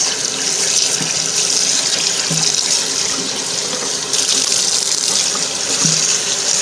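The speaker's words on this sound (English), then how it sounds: "I'm just going to rinse just enough" A dyed mop being rinsed under a running tap, with steady broadband water gushing and splashing into a sink throughout, loud and continuous with brief shifts as the mop moves under the stream.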